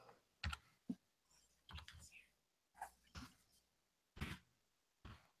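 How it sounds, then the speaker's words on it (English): Quiet, irregular bursts of one-handed typing on a computer keyboard, scattered clicks and short clusters of keystrokes spread across a few seconds with near silence between them. "I'm typing with one hand."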